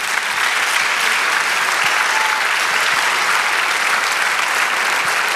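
A church congregation applauds during a service: dense, loud, sustained clapping from many hands, steady throughout with a faint crowd murmur beneath.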